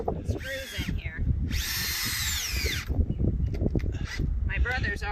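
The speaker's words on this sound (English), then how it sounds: "I get to drill these screws in here." A power drill drives screws into tree house wood during a repair, with one long steady whine between shorter bursts, close and loud, as people talk throughout.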